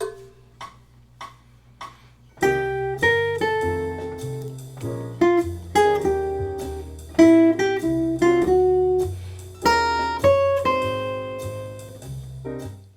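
Jazz guitar improvisation, beginning with a few sparse plucked notes before launching into a dense, flowing run of single-note lines and chords, clean and up close with no other instruments.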